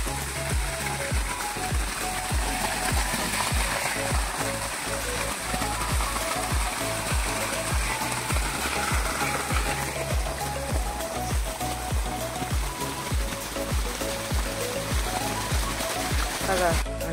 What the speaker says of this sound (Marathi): आता आलं आपल्या वावरात पाणी.